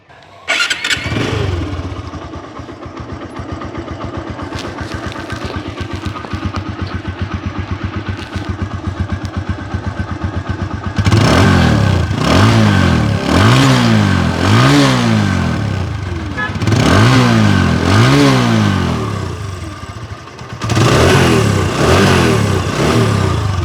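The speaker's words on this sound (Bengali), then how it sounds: "এবার আপনাদেরকে গাড়ির ইঞ্জিনের সাউন্ডটা শোনানোর চেষ্টা করব" A TVS Apache RTR 160 motorcycle engine fires up and idles with a steady, close putter, then is revved repeatedly in loud, rising bursts that fall back between throttle blips.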